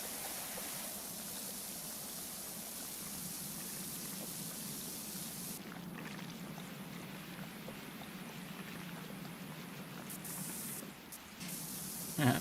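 A pressure washer sprays water steadily in a cleaning video game, producing a continuous loud hiss of spray that runs unbroken and alone, shifting slightly in tone partway through.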